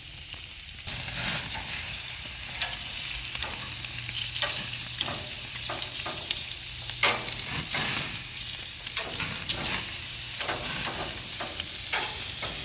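Beef pieces searing on a well-preheated grill for birria, a steady loud sizzle with scattered crackles and pops throughout, the hiss starting abruptly and running continuously without talk.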